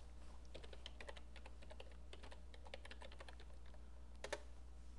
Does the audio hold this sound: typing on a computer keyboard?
yes